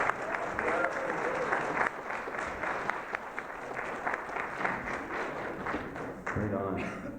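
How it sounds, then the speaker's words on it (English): Audience applause at the Treaty 4 Education Conference, a dense, steady clapping crowd sustained for several seconds, filling the room at moderate loudness with a few voices mixed in. "Round of applause for Faith."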